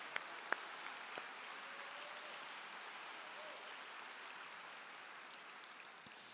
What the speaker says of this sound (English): let's give all of our alums a big round of applause